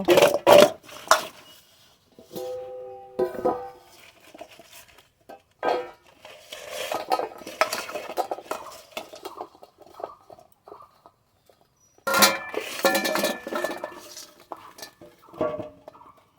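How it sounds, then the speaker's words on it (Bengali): Salted, turmeric-coated mango pieces for pickle are moved onto a plate with scattered clinks and scrapes of utensil on metal, some sharp knocks and softer rustling handling sounds, close by, with pauses between bursts. "ভালো করে লবণ হলুদ মাখিয়ে নিয়েছি এবার রোদ্দুরে দেওয়ার জন্য থালায় তুলে নেব"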